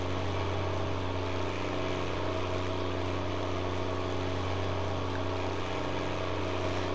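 Tractor engine in Farming Simulator 19 running with a steady, droning hum under load, continuous and fairly loud throughout with no speech.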